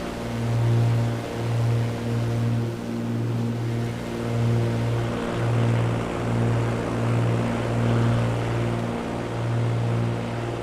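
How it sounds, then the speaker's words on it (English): A Cessna 310 twin propeller engine in Microsoft Flight Simulator drones steadily, with a rhythmic pulsing beat in the low hum continuing throughout at moderate level. "This is a cool airplane, man."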